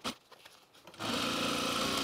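Sewing machine stitching a pant facing and shield together: quiet handling noises at first, then a steady continuous whirring stitch run close by.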